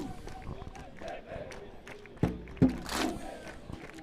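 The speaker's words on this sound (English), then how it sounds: "As we see some of the traditional war cries and chants at the end of the game." Schoolboy rugby players shouting traditional war cries and chants after a Jeppe XV versus St Stithians XV match, a rough crowd of voices with two sharp loud shouts near the middle, over field noise and scattered claps.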